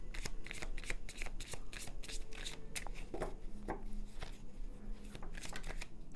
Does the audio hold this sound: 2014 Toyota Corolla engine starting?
no